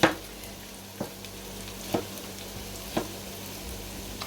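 Red cabbage and apples sauteing in a pressure cooker, a low steady sizzle broken by four sharp clacks of a utensil against the pot, roughly one per second.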